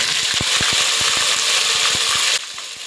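Mustard seeds, cumin and ginger-garlic paste sizzle loudly in hot oil for a rice bath, a dense steady hiss dotted with sharp seed pops, dropping to a quieter crackle near the end.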